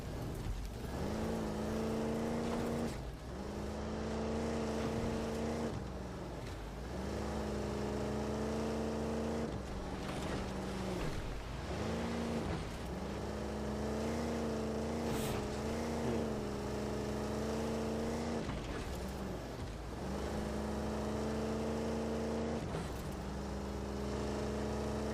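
A vehicle driving in the Halo video game, its engine drone steady and loud throughout, with tone rising and falling as it speeds up and slows across repeated stretches.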